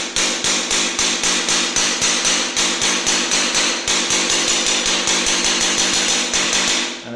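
Heavy diamond chisel struck repeatedly with a hammer to break material while opening up a circuit, a fast steady train of loud, sharp metallic blows close by with no talking.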